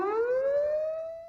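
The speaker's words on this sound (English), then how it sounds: "This is a test of the emergency siren system." Civil defense emergency warning siren sounding during a system test in Alaska, a single loud rising wail that climbs steadily in pitch and holds near the top, with no talk over it.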